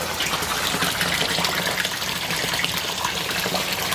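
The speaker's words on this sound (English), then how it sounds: "So a lot of splashing going off" Water gushing and splashing hard while a wetland filter is cleaned out, a loud continuous broadband spray heard up close with no talk.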